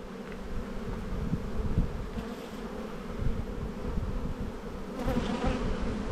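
Honey bees swarm over the frames of an open hive during spring buildup, a steady, close, continuous buzzing drone with no voices over it.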